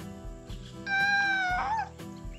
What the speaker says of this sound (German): Meine arme Katze.